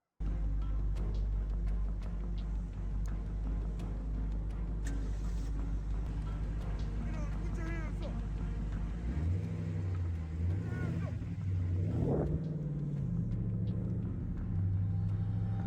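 A car pulls away in a tense street confrontation, a steady low engine rumble that rises in pitch as it accelerates near the end, with voices and background noise underneath.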